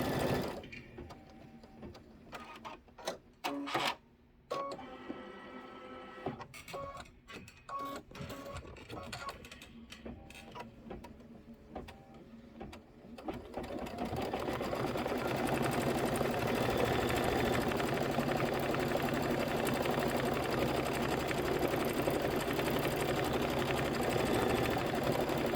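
Sewing machine stitching Kimberbell table topper blocks: stop-start bursts with clicks and pauses, then a long steady loud whir, with faint talk early on.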